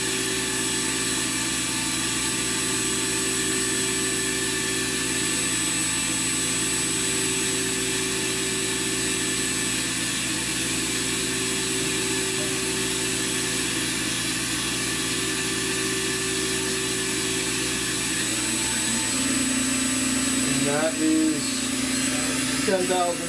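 A Walter Helitronic Mini Power CNC tool cutter grinder runs its spindle at high speed, giving a steady whining hum with fixed tones that shifts briefly near the end.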